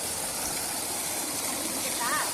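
Water gushes steadily from a motor-pumped well outlet on farmland in Salem district, a continuous close rushing flow with no break across the short stretch.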